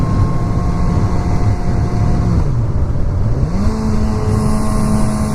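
A 2016 Suzuki GSX-S1000 ABS sportbike pulls hard from about 5,000 rpm, its steady loud engine note dipping then climbing again as the rider accelerates, with wind rush throughout and no talk.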